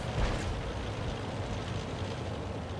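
A Hellcat tank destroyer fires in World of Tanks, giving one heavy blast near the start that rolls into a sustained low rumble of battle noise.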